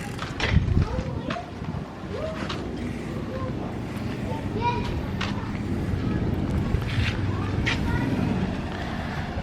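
Motor tricycles roll past on a street near the Santa Maria Barangay Hall in the Philippines, steady engine rumble and road noise with wind buffeting the microphone, under people talking.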